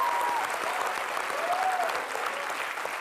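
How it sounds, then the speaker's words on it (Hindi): A studio audience at a comedy show applauds steadily, a broad wash of clapping that holds at an even level for a few seconds with faint voices mixed in. "तो तालियां"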